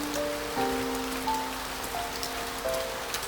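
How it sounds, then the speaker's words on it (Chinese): Steady rain patters and hisses at a low level, with faint sustained tones humming underneath. "外面下起了大雨"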